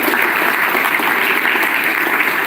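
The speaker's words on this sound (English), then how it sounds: "So big round of applause to today's technical session." An audience applauding after a technical session at a college tech event: loud, dense, continuous clapping from many people filling the room evenly throughout.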